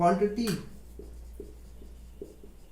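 A pen scratches out a physics definition on paper after a brief spoken word, producing soft, intermittent strokes close by.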